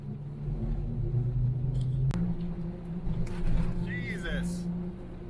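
Jeep fitted with snow tracks pushing through powder snow, a low steady engine rumble with churning track noise and a few clanks, while a person speaks briefly over it.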